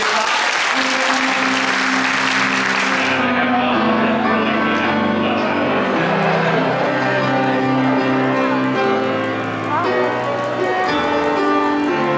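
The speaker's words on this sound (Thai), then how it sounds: "ขอทุกท่านปรบมือแสดงความยินดี" Wedding guests at a Christian-style wedding clap loudly and steadily, and festive music soon rises and carries on beneath the continuing applause.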